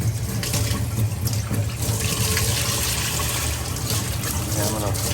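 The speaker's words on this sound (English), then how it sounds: "Wash that out a bit." Running water from a tap rinses out a refrigerator part during a repair, a steady close splashing flow that lasts the whole clip, with faint talk in the background.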